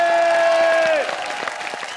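Applause from a comedy show studio audience, a burst of clapping and crowd noise that rises under a sustained musical tone, then thins out as the tone drops away.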